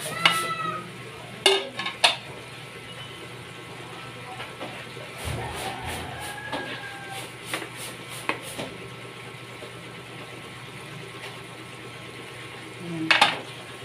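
Coconut milk is added to spicy squid cooking in a pot, giving a soft steady simmer with scattered clinks of utensils against the pot and a few louder knocks, and no voices.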